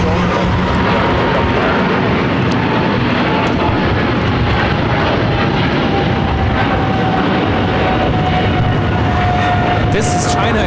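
A China Airlines Cargo Boeing 777 freighter takes off at LAX, its jet engines giving a loud, steady, continuous roar with a faint rising whine, heard up close and filling the whole stretch.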